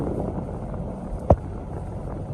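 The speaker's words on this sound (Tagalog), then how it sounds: "Grabe lakas ng hangin." Steady low rumble of strong wind buffeting the microphone, with one brief louder thump partway through; no talking.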